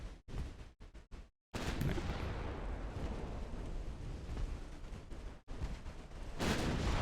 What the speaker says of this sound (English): we can go watch our glorious broadsides.